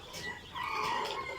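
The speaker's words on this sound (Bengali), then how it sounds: "এই বাচ്চাগুলো অরিজিনাল মিশরীয় ফার্মি মুরগির বাচ্চা" Seven-day-old Egyptian Fayoumi chicks chirp and peep softly at close range, with a few high calls overlapping faintly against a quiet background.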